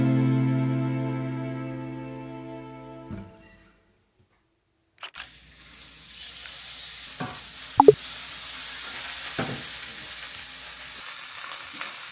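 Steak and asparagus sizzle and fry in a pan in a home kitchen. Steady, soft frying hiss runs after a quiet gap, broken by a few sharp clicks and clatters of utensils, with no talk.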